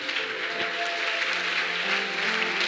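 A church congregation claps together in a brief, dense burst of applause that carries evenly through a few seconds, moderately loud with a faint murmur of voices mixed in.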